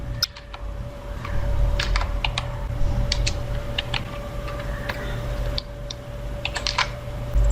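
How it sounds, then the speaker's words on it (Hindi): Rapid, irregular clicks of a computer keyboard being typed on, close and clear, with bursts of keystrokes and short pauses over a faint steady hum. "चलिए अब एक नया शीर्षक टाइप करते हैं,"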